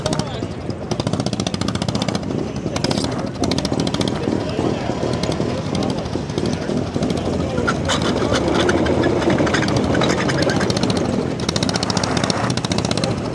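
A vintage survivor snowmobile runs in a parking lot at a winter vintage sled show, its two-stroke engine a loud, continuous rapid chatter close by, with people talking over it.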